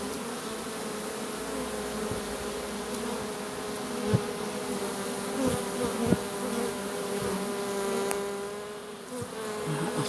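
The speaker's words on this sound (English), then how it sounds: "I've got a huge number of bees on the back of me, obviously being this close and in front of the hive, all the flying bees returning now" Honey bees flying in front of a hive as a swarm issues, a dense close buzzing drone that continues throughout with individual bees passing near, with no talk.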